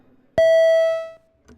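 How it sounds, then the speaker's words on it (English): A single electronic bell tone rings in the Senate chamber to call a recorded vote, a bright sustained ding that holds for nearly a second before fading, followed by a faint short thump. "ring the bells"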